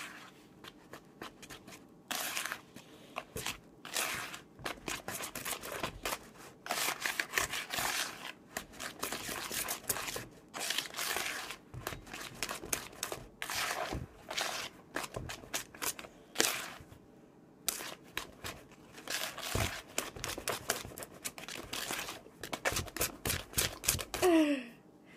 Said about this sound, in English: whisk that all together.